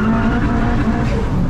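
A turbocharged Mk4 Vauxhall Astra with a cable throttle, making about 450 bhp, revs up loudly from close range, its engine note rising steadily under a dense roar.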